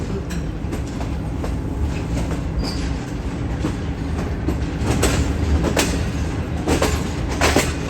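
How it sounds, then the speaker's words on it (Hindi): A Green Line Express passenger train pulls out of Rawalpindi railway station with a loud, continuous rumble and rhythmic clickety-clack of wheels over rail joints, joined by occasional faint wheel squeals, and no voices. "ट्रेन हमारे निकल रही है इस वक्त रावलपिंडी रेलवे स्टेशन से"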